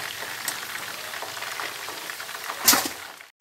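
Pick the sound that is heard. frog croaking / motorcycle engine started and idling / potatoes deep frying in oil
potatoes deep frying in oil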